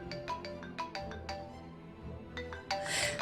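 Phone ringtone sound effect from a Spanish-language horror audio drama: a repeating melodic electronic tone rings in bright pulses for a few seconds, fairly loud and alone, swelling brighter at the end.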